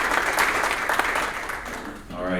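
An audience at a Rotary Club presentation applauds the young speakers, broad continuous clapping across a room that tapers off near the end as a voice begins.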